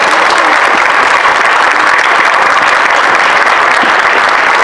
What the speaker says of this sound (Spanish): les pido un fuerte aplauso a nuestro compañero y hermano.